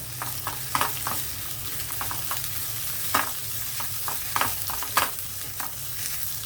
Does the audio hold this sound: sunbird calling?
no